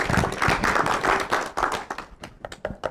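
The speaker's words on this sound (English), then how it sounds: "Give Jerry a big round of applause." A brief burst of audience clapping at a communication skills talk, dense for about two seconds and then thinning into scattered claps.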